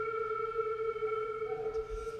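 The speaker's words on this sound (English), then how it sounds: "the flutes play on a portion of their instrument called the head joint" Flutes in a fifth-grade school band play on the head joint alone, giving a steady, airy, high sustained tone with a few held pitches for about two seconds, fairly quiet and unaccompanied.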